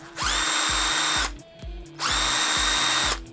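A brushed Makita impact driver motor whirs up in two bursts of about a second each, spinning down between them with a short pause, close and loud.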